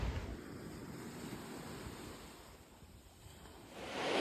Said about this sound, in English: So I'm chilling on the beach.